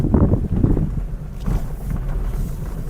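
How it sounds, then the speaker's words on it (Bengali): Cold wind sweeps through the hills near Santook, Kalimpong, buffeting the microphone in gusty, low, rumbling bursts that come and go over a few seconds. "কিন্তু ঠান্ডা হাওয়াও লাগছে সাথে।"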